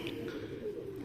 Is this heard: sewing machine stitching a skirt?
no